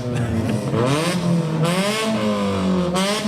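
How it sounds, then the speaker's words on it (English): Straight-piped parade car with no muffler revving loudly and close at an outdoor July 4th parade, engine pitch rising and falling in repeated throttle blips with a raspy exhaust note. "They got those straight pipes, no muffler required."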